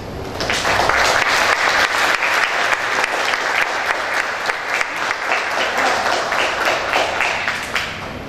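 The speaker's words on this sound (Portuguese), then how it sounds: "Gostaria que todos recebessem aqui com uma salva de palmas nosso primeiro palestrante, Renato Gonzalez." Loud, sustained audience applause fills a theatre at a cultural pre-conference as the first speaker is welcomed, with dense steady clapping and no talk throughout.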